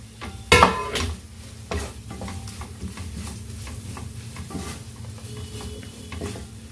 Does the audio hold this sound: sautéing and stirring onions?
yes